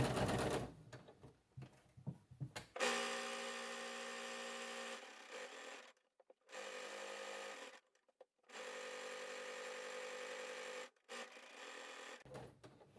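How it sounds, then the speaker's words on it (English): A sewing machine stitches all the way around the edge of a fabric heating pad in long, steady whirring runs. The runs are separated by short pauses, and the stitching is close and fairly loud with no talk. "Then I'm going to sew all the way around the edge, coming all the way around."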